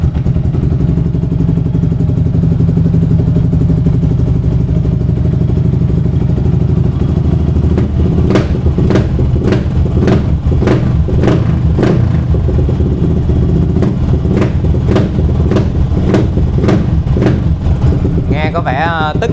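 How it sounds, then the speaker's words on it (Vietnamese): A Yamaha R15 V3 sport motorcycle with custom racing modifications starts up and runs, its loud, close engine droning steadily, then a regular series of sharp mechanical ticks and pops cuts through, with a voice talking over it. "Rồi giờ thêm một cái phần nữa là nổ máy nha."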